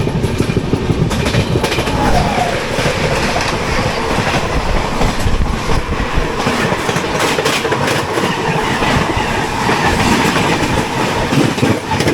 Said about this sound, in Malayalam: ജയന്തി ജന എക്സ്പ്രസ് ആണെന്ന് തോന്നുന്നത്